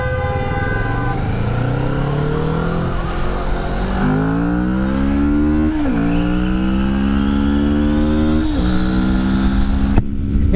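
A Kawasaki Vulcan S motorcycle engine revs loudly and close, climbing through several gear shifts with rising and dropping pitch, steady wind noise throughout.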